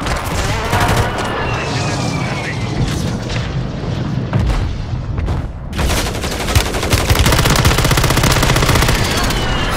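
Rapid machine-gun bursts and booming explosions fill a Call of Duty firefight, loud and nearly continuous, with a brief lull before the shooting surges again.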